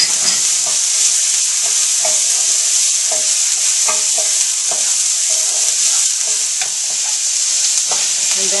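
Garlic fries in a pan with turkey ham, a loud, constant sizzle with light spatula stirring scrapes ticking through it, close by and without speech.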